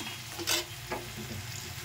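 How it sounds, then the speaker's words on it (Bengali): Onion, garlic, chilli and potatoes frying in a pan, a continuous close sizzle with a couple of brief scraping stir sounds, no talking. "ভাজা হয়ে যাচ্ছে"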